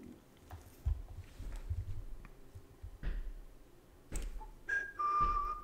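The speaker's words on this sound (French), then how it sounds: "j'ai un peu chantonné, un petit peu siffloté" A person whistling a few short, faint notes of a tune near the end, over quiet background clatter and soft taps.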